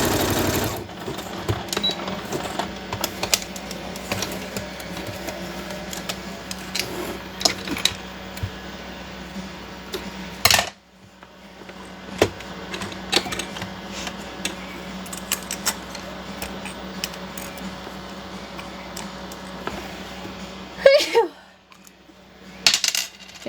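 A sewing machine stitching a DIY pocket folio made from scratch, running in long mechanical bursts with a brief stop midway and a clunk near the end, close and fairly loud with no talking.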